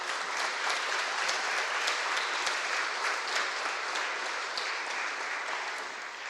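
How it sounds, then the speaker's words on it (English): Steady, moderately distant applause from an audience at a Monterey County memorial ceremony for fallen heroes, continuous and even, easing slightly at the end. "Let's give them all a big round of applause"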